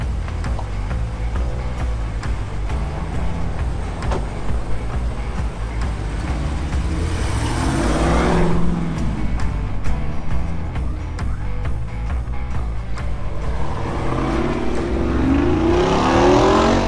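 A Jeep Wrangler Rubicon on a test drive, its engine a steady loud drone heard from inside, swelling twice as it revs harder, with no talking.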